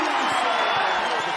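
Home crowd at a women's college basketball game between Baylor and BYU on BYU's home floor, a loud continuous roar of cheering filling a short stretch without distinct claps or shouts.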